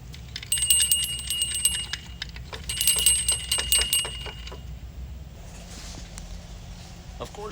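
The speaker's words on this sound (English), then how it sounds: "You have a bell." A bell is rung twice in quick bursts inside an antique store, its bright metallic rings clear and close over a low background hum, followed by quieter handling and shuffling.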